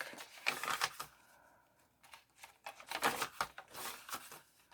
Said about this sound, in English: I just love the sound that paper makes, especially these coffee dyed papers.